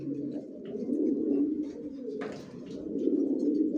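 Cooing of young Johnson racing homer pigeons inside a loft forms a continuous low throaty burble from several birds, close and steady, with a brief brighter rustle partway through.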